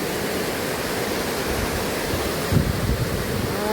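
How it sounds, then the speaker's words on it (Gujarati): A river swollen after days of heavy rain rushes past in a loud, unbroken roar of churning water, steady and close throughout, with a slight surge near the end and no speech. "જોઈ લ્યો ભાઈ નદી. ભાઈ જોયું ને, આમ થડથડાટી મારતી વહી ગઈ."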